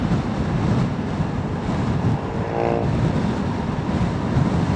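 Wind roars and buffets against a helmet-mounted microphone on a Vespa ride along a 70 km/h road, producing a loud, continuous broadband rumble with no talking.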